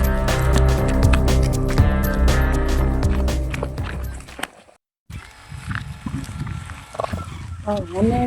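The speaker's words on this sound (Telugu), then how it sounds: "పులి సౌండ్ వస్తుంది" Tiger roars and growls rise over loud dramatic music, followed by lower rumbling growls with voices talking faintly underneath.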